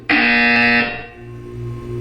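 A loud electronic buzzer in the Portal 2 video game blares in one sustained tone for nearly a second, then cuts off, leaving a lower lingering hum.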